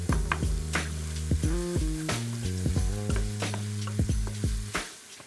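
Lamb mince, onion and tomato paste fry in a pan, giving a steady close sizzle with scattered crackles and the clatter of a utensil stirring and breaking up the meat.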